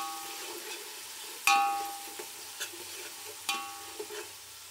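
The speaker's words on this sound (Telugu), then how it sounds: "ఇప్పుడు ఎర్రగడ్డలు వేయించుకుందామండి" Onions frying in a pan with cumin and curry leaves for Karnataka-style bisi bele bath, a steady soft sizzle broken by a few sharp clanks and scrapes of a spoon stirring against the pan.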